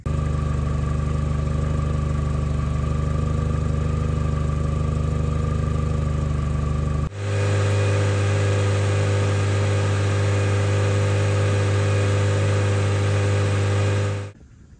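A Mini car engine idles at a steady, loud hum, then jumps to a higher, constant drone when held at 3000 rpm for an oil pressure check.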